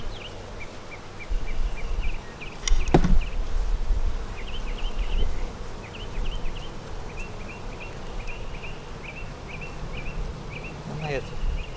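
Honeybees buzz around an opened eight-frame hive during an inspection, a soft, wavering drone with individual bees zipping past, joined by scattered thumps, clicks and rustling handling noises, and brief faint bird chirps in the background.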